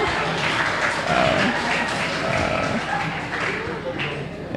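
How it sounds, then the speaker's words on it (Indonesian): A church youth congregation applauds in a brief, dense burst of clapping that fills the room, with some voices mixed in. "Tepuk tangan dulu"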